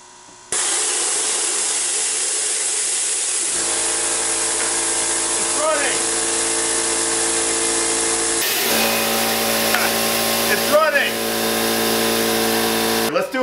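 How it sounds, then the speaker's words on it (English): An air compressor runs with a steady loud mechanical drone, then a hissing rush of air as pressure is released, rising and continuing near the end. "here's my air compressor. So here we go. I'm gonna have to relieve a little bit of the air pressure in here"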